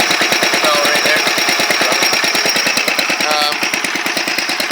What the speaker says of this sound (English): The little grinding sound you're hearing is the